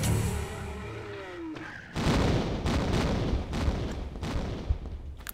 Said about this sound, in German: Etwa 600 Uzi-Schuss braucht man, um den zu töten.